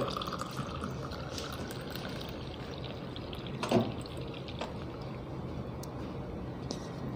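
Sugarcane juice runs from a battery-operated juicer machine into a glass, a steady watery pour and trickle with faint drips, one brief louder splash midway, close and fairly quiet with no talking.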